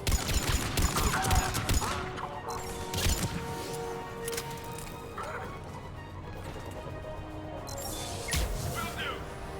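Dense gunfire and explosions in the Mass Effect 3 video game, continuous loud bursts and crashes filling the whole stretch with some voices mixed in.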